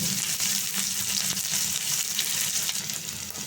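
Sliced onions fry in hot oil after a spice tempering, with a little salt added, while cooking moringa leaves. A steady, close sizzle and crackle continues without a break and no one speaks.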